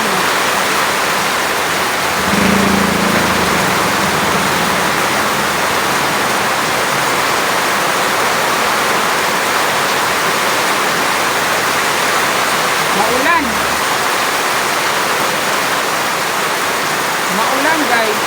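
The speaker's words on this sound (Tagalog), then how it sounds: "Maulan guys." Heavy rain produces a dense, steady roar of broadband hiss throughout, loud and unbroken, with faint voices occasionally audible beneath it.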